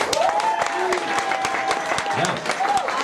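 Comedy club audience clapping loudly and steadily throughout, a dense wash of handclaps with scattered cheers and voices mixed in.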